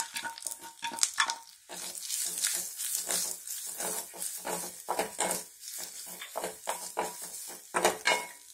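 Grated coconut roasts in a pan with cashews and raisins, heard as repeated scraping stirs and clinks of a spoon against the pan over a soft sizzle, in uneven bursts close by.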